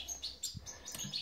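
Goldfinch chicks in an aviary give quick, thin, high begging chirps in short repeated bursts, faint and close, with no talking.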